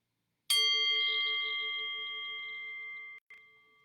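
A single meditation bell struck once, its bright clear tone ringing out alone and slowly fading over several seconds in a quiet room, briefly cut off near the end before resuming.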